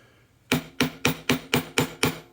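A round wooden piece being struck with a makeshift tool while opening the top of a mortise, six sharp, evenly spaced knocks, loud and close, after a brief quiet start.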